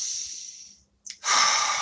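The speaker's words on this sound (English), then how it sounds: "Take a nice deep breath" A slow deep breath drawn in through the nose and released, a soft airy inhale fading to a pause, then a sharp snort-like intake and a long breathy exhale, close and alone.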